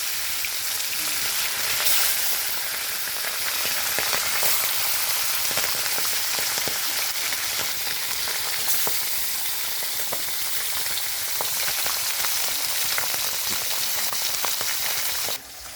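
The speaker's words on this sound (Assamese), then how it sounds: "এতিয়া মই মাছখিনি ভাজি ল'ম।" Four fish frying in hot mustard oil in a kadhai, a loud, dense, continuous sizzle and crackle throughout with a few sharper pops and no talk.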